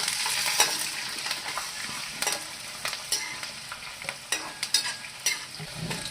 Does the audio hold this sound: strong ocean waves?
no